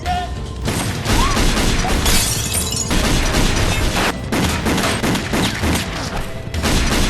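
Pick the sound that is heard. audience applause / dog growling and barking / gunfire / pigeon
gunfire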